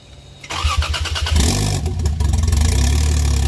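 A Toyota 1JZ engine in a GS300 fitted with a big turbo and open downpipe cranks briefly, then fires up and settles into a loud, rough idle with a throbbing low rumble close by.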